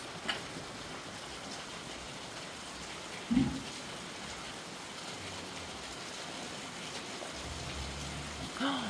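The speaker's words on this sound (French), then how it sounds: "Il pleut." Steady rain falls on a farm, a broad even hiss of drops that holds through the whole stretch, with a brief louder knock near the middle and quiet background sounds.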